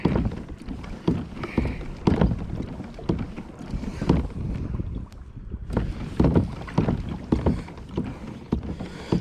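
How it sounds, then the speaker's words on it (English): Gusty wind sweeps across open water beside tall rock walls while a small boat drifts, a steady broadband rush broken by repeated close knocks and splashes throughout. "it's a bit of wind here"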